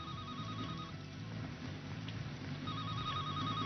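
A telephone rings in a tense film scene, a faint warbling electronic ring in two bursts with a pause between, set under low background music.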